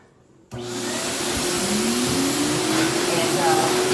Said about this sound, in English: we have a power dryer that I turn on just lightly